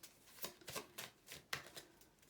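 Oracle cards shuffled by hand in a series of quick, crisp riffling bursts, about five distinct flurries with short pauses between, close and fairly quiet with no talking.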